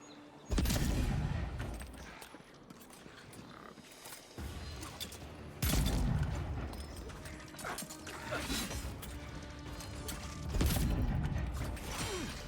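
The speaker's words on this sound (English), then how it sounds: "I'm going to go with the arquebus for a little bit." An arquebus in the video game Avowed fires in several heavy blasts spaced a few seconds apart. Clicking and creaking reload mechanisms fill the gaps between shots.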